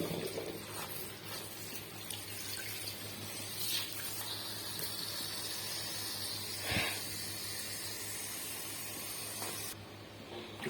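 Leafy greens are rinsed under a running kitchen tap, a continuous hissing water stream with a few splashy swells and small knocks, steady and fairly quiet with no speech.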